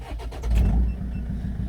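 A Land Rover Freelander engine with a straight-through exhaust and no silencers, heard up close: a deep, throaty idle that swells briefly near the start, then settles into a steady, loud rumble.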